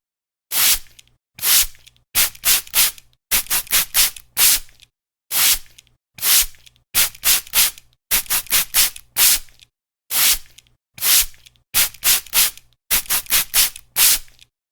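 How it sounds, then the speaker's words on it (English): Spray paint coats go onto costume pieces in a fast run of loud, close hissing bursts, short sprays in quick clusters separated by brief silent pauses. "we'll give you a couple of seconds of speed montage as we shoot these 4 coats on there"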